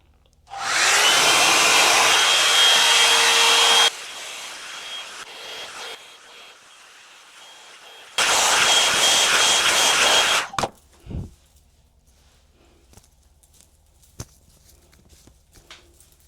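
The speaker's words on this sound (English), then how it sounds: "let's diffuse our hair. And remember, when you diffuse your hair, you want to keep it on cool." A hair dryer fitted with a diffuser runs on the cool setting while drying curly hair, blowing loud and steady in two long bursts separated by a quieter pause, then switching off to near silence with a few light handling clicks.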